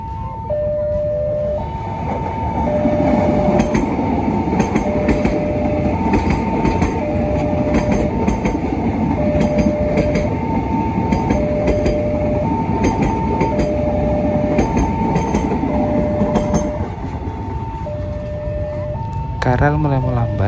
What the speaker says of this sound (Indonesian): KRL ini akan menuju ke stasiun akhir di Palur dan melewati beberapa kota Klaten dan Solo.